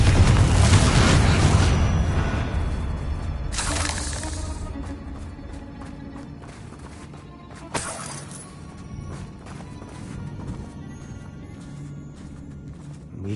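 Confringo fire spells go off in the video game Hogwarts Legacy as loud, booming blasts. A heavy opening explosion fades into a rumbling tail, and further crashing impacts follow at intervals.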